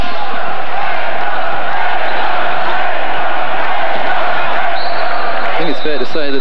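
A small crowd at a 1998 World Championship basketball game between Lithuania and the USA keeps up a steady roar of cheering and chatter, with sharper shouts and a few whistles near the end.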